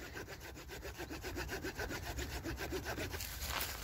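A hand saw rasps through wood cutting notches for a bushcraft buck saw in the forest, with steady rhythmic back-and-forth strokes, close and fairly loud, and no talking.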